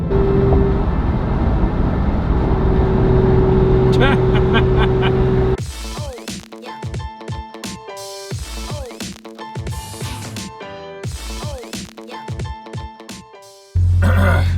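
A BMW M3 GTR roars loudly on the road, with a steady engine drone that gives way to sharp, repeated revving and gear-change surges, ending in a sudden loud burst.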